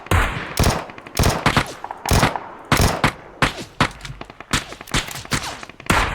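Gunfire in an intense PUBG match: loud, close bursts of rapid shots in quick successive volleys, separated by brief pauses.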